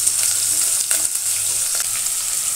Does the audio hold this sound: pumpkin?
yes